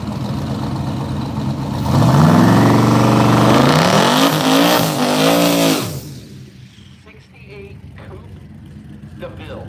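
A 1937 coupe launches down Woodburn Dragstrip, its engine screaming loud and close through rapid rising gear pulls for several seconds before the roar drops away. An announcer talks over it.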